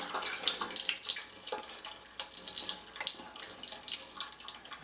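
Tap water runs into a container of tomato seeds being rinsed for saving, a close, steady splashing and gurgling stream with bursts of bubbling, and nobody speaks.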